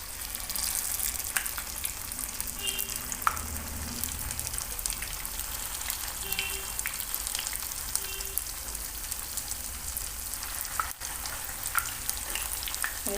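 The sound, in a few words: vada shallow frying in hot oil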